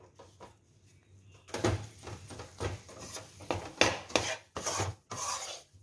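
Gram flour roasting in ghee is stirred with a spoon, giving soft scraping, rasping strokes in an uneven rhythm that grow busier and louder after a quiet start, close up, with no talking.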